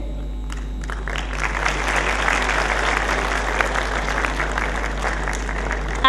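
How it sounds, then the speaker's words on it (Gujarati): A hall full of delegates at a Gujarat generic medicine organisation convention claps steadily and densely for a welcomed doctor, a sustained, even wash of applause over a low hum, with no clear speech. "આપણે સૌ પણ તાળીઓથી અભિવાદન અને સ્વાગત અને સત્કાર કરી શકીએ"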